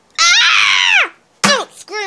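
Girls screaming in a classroom: one long, loud, shrill scream, then after a short gap a second scream that breaks into shorter high-pitched yelps, close and intense, with no talk.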